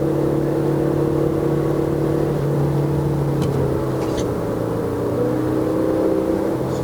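A 2019 Proton Exora Premium engine held in L gear while climbing uphill on the Genting road, a steady droning hum at high revs heard from inside the cabin, continuous and fairly even throughout with no talking.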